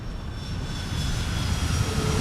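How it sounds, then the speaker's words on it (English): An Emirates Airbus A380 jet climbing after takeoff from Heathrow produces a steady, loud engine roar that builds slightly as it continues, with no voices. "Just Emirates 380 is just going up over there"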